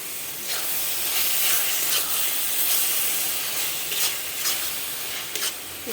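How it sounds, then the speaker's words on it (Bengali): Ginger garlic paste sizzles in a pan with frying onions for a dhaba-style chicken kosha, giving a steady, loud hiss with faint crackles and no talking. "এবার আদা রসুন বাটাটা আমি দেব।"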